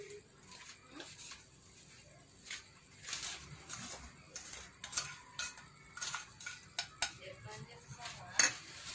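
Ingredients for a carrot cake, oil and powdered sugar among them, being stirred in a bowl. A utensil scrapes and clinks against the side in quiet, irregular taps that grow busier toward the end, with faint talk in the background.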